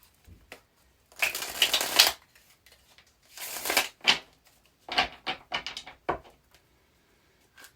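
Tarot cards are shuffled in several brisk riffling bursts, followed by quicker taps and slides, close and crisp with quiet gaps between.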